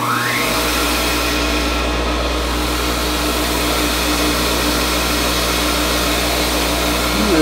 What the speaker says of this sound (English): Now I'm going to use the wire wheel and clean them up.